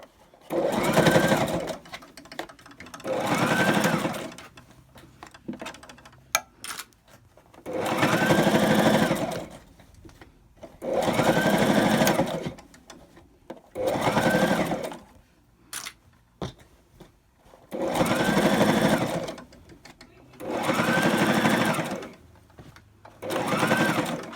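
A sewing machine joins two parts of a tote bag in repeated bursts of stitching, about eight runs of a few seconds each separated by short pauses, loud and close with no talking.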